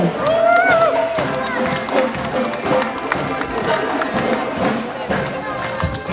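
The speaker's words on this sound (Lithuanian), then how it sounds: "Plojimai Smilgai!" Crowd at the Pasienio fiesta 2015 festival cheers and claps for the Smilga dance group, a loud continuous mass of voices and scattered clapping with a few whoops, steady throughout.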